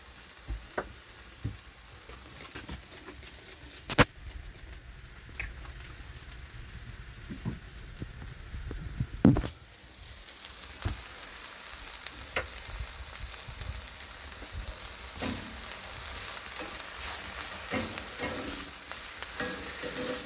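Steaks and onions frying in a pan in a shed, a steady close sizzle running throughout with occasional sharp clicks and clatters of utensils against the pan.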